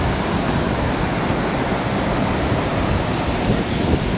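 A waterfall roars steadily at close range, a dense, unbroken rush of falling water with no voices over it.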